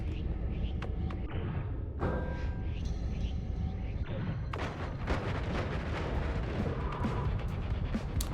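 Video game explosions in Noita, a dense run of booms, crashes and crackling blasts layered over one another throughout.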